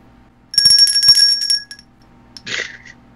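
A bright bell ding rings out clearly with a sustained metallic tone, followed about a second later by a second, shorter chime.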